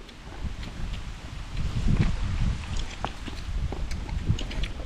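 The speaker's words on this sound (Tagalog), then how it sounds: "Lakas hangin." Strong wind gusts across an outdoor rural farm cooking spot, a steady broadband rush with mic buffeting and rustling that swells and eases over a few seconds, fairly close, with no clear talking.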